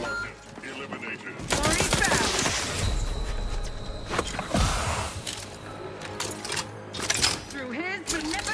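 Bursts of gunfire in The Outer Worlds 2, a sci-fi shooter, loud and sustained with rattling fusillades, overlaid by game dialogue and electronic effects.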